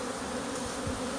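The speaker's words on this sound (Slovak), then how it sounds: "môžu včely poriadne preletieť." Honeybees in flight around a hive on a sunny spring morning after a cold snap, a steady close buzzing drone with no talk.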